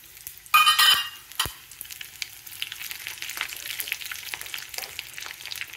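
Dry red chilies and garlic sizzle in hot oil for a South Indian tempering with chana dal, urad dal, mustard and cumin, opening with a loud burst of frying and a sharp clatter, then settling into a steady crackle with stirring.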